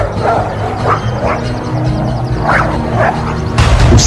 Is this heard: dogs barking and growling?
yes